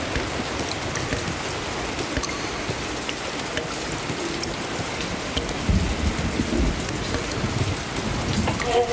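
Heavy rain pours down steadily and loudly with dense spattering on surfaces, while low rumbles of thunder roll underneath throughout, with no voices.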